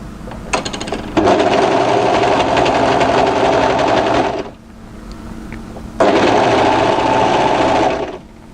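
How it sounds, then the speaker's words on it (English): An overlocker stitches sweatshirt panels together at the armhole edge, running loud and steady in two bursts with a short pause between them. "just overlock those into position"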